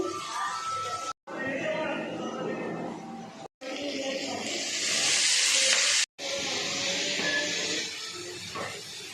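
Potatoes fry in hot oil for Maggi noodles, giving a bright, steady sizzle and hiss that swells louder midway, broken by a few brief cuts, with faint talk in the background.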